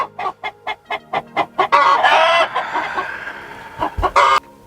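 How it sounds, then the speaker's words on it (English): Outside a chicken coop, a rooster lets out a quick, rhythmic series of loud, close clucks, then a longer, harsher crowing call, with more clucks after it. "he's a rooster and he's doing his job"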